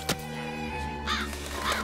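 A crow caws in a film scene, with several harsh calls spread over a couple of seconds. They sound close and loud and carry over a steady background, with no talking.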